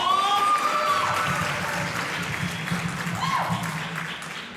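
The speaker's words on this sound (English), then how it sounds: "Please give a round of applause." Audience applause at a live stage show, a dense wash of clapping that starts loud and slowly fades over several seconds, with a few voices under it.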